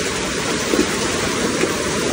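Heavy rain falls steadily during a flood in Feni, a loud, dense hiss of downpour on surfaces with no voices, unbroken throughout.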